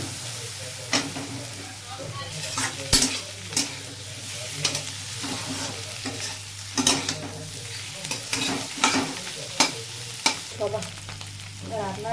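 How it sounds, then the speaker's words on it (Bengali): Potatoes and spices stir-fried in a home kitchen pan sizzle steadily under repeated clattering spatula scrapes, with a low hum running underneath. "আলু ভাজা, এই জন্য মশলাটা একটু ভালো করে কষিয়ে দিব।"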